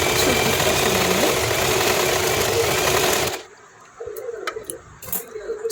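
An Usha Allure Deluxe sewing machine running overlock stitching along a fabric edge, a loud steady whirring drone that stops abruptly after about three seconds, leaving quieter clicks and handling sounds.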